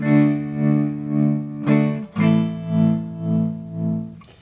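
Sustained guitar chords pulsing smoothly through a Guyatone Ultrem tremolo pedal with blend on, the volume swelling and dipping in a soft, rounded rhythm, with a chord change midway.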